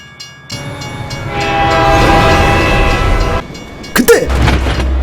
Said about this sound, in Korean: 얼마 가지 않아 기차가 앞을 가로막는군요.